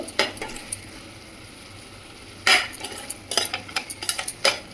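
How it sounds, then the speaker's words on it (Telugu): Egg curry stirred in a pan after tamarind juice is poured in, Andhra style egg pulusu, with close irregular metal spoon scrapes and clinks over a low simmering sizzle. "కొంచెం ఇలా ఫ్రై చేసిన తర్వాత చింతపండు పులుసు పోసుకున్నామండి ఇందులో"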